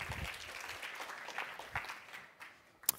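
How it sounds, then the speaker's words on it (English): Audience applause at a startup demo pitch stage event, a fairly faint, thin scatter of clapping from a modest crowd that tapers off, ending with a sharp single knock. "A round of applause."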